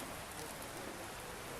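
Steady rain falls in Mayiladuthurai, Nagai district, a dense even hiss of drops with no breaks across the short stretch, fairly loud and close.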